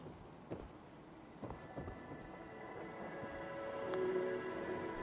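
Faint steady rainfall with a few soft thunder rumbles early on in Fallout 4, a low wash of rain swelling slightly toward the end, no voices.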